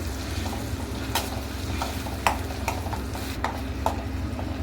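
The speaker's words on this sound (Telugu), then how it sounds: "ముందుగా గ్రైండ్ చేసి పెట్టుకున్న మసాలా, ఇలా మిక్స్ చేసుకోవాలి." Ground masala paste being stirred in a frying pan while preparing spicy chilli chicken, with a steady sizzle and soft scraping strokes of the spoon against the pan at irregular intervals, close and alone.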